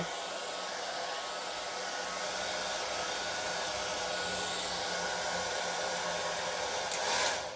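A hair dryer fitted with a concentrator nozzle blows on its low, cool setting, a close, even, continuous whoosh that holds steady for the whole stretch with no one talking.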